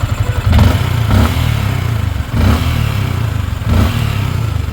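A Yamaha Sniper 155 motorcycle engine runs nearby after a cam bearing replacement, idling with a steady rumble and several brief revs that rise and fall.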